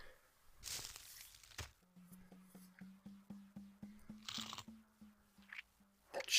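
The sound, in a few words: chewing sound effect from video game The Neverhood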